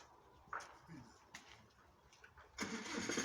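A Japanese 80 hp tractor engine cranks and catches, with short bursts building into a steady running roar near the end, under some background noise.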